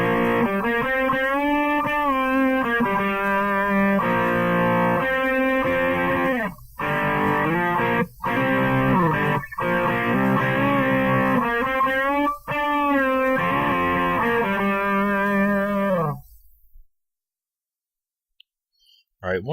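An electric guitar played through a Digitech GSP1101 preamp modelling a TS808 overdrive into a Mesa Boogie amp, with light twin reverb, rings out in saturated, sustained chords and riffs with short stops, then fades to silence.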